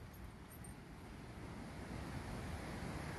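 A Highland waterfall rushing outdoors, a steady, dense roar of falling water that stays loud and unbroken from start to finish with no voices over it.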